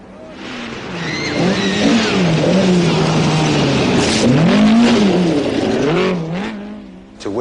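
Roger Clark's Triumph TR7 rally car drives past, its engine rising loud as it nears, revving through gear changes with a brief tire squeal, then dropping away as it recedes.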